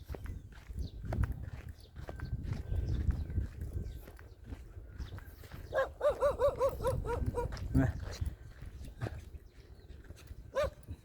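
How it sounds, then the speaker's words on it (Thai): A dog barks in a short burst of several quick yaps, then once more, at a rural road construction site near a railway bridge in Phon Thong, with people talking and footsteps throughout. "ทุกทีเลยหมา มันเห่าทุกทีเลย"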